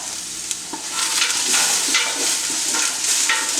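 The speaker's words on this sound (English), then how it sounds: "Let me just go ahead and give that a little stir." A pot of Siberian soup with barley and corn is stirred, a fairly loud, continuous bubbling sizzle with repeated soft scraping strokes close by.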